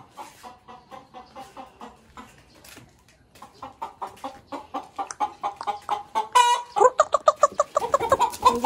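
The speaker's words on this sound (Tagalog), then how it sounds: "Nandun siya, yung manok." A chicken clucking in a run of short, rhythmic calls that grow louder and denser toward the end, close by with no talk.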